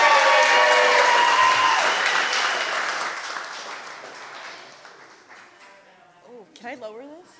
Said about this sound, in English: Make some noise for Emily